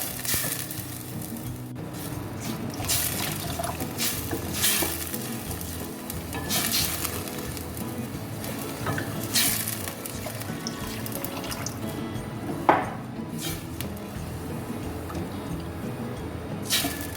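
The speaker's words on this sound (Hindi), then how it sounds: "अब हम इसमें डाल देंगे पानी, दाल को हम रख देंगे गलने के लिए।" Water pours into a pot of lentils being cooked for palak dal: a continuous, even splashing wash lasting throughout, with a sharp clink near the end and no talking.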